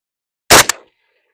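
A single loud shot of 7.62x39 Chinese tracer ammunition fired at a distant range cracks sharply out of silence, followed by a brief secondary report and a short fading echo.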